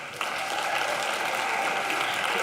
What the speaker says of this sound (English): Can we take a moment to give a round of applause to the TEDx team real quick?